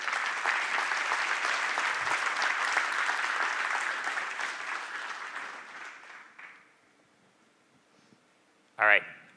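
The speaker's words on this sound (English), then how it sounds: "I want to give them a round of applause because they've done a ton of work." Sustained audience applause at a tech conference, a dense wash of clapping for several seconds that fades out, followed by a brief voice from the stage.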